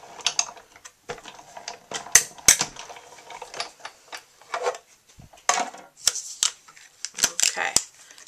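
A hand-cranked die-cutting machine feeds cutting plates holding a Framelits die through its rollers. Irregular close clicks and plastic clatter come and go in uneven bursts with quiet gaps between them.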